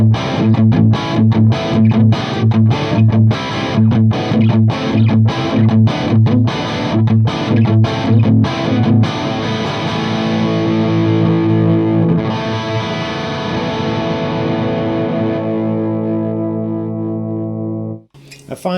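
A distorted electric guitar plays through a Celestion Neo Creamback speaker cabinet with the gain raised, first loud chugging palm-muted chords in rapid stops, then ringing sustained chords that fade and are cut off near the end.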